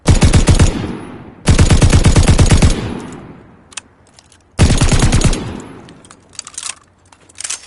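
Bursts of rapid machine gun fire from Call of Duty Vanguard Zombies, three long loud sustained volleys separated by pauses, with scattered quieter shots and clatter in between.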